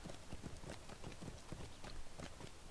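Horse hooves clip-clop steadily at a riding pace through Lord of the Rings Online, a fast even rhythm of close thuds that runs the whole time with no talking.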